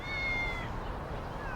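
A cat on a cold tile roof meows with a long, rising-and-falling cry early in the morning, fairly close and clear over a steady outdoor background hum.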